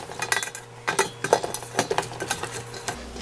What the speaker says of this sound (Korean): 우선 오이를 이렇게 차곡차곡 담습니다. 전 오늘 냄비에다 담을 거거든요.